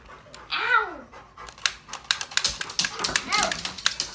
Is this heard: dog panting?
yes